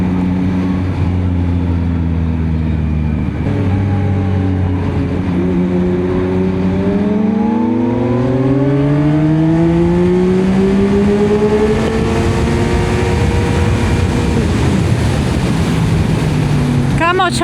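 A Honda Hornet motorcycle revs hard as it passes close by, its engine note climbing and sweeping in pitch over a steady background roar before fading into road noise.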